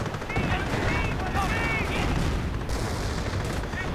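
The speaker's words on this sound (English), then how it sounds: "Dropping down mortars here in the hopes of catching something." Mortar and artillery fire in a WWII strategy video game, a dense rumbling barrage of booms and crackling shots with whistling shells, loud and continuous, with a voice talking over it.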